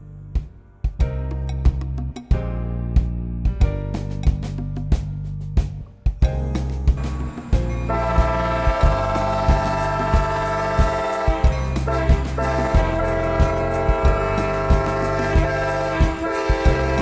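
Train passing through Sulphur Springs, Texas, loud and close, with a steady rumble, rhythmic wheel clacks and a sustained blaring horn that continues through most of the passage.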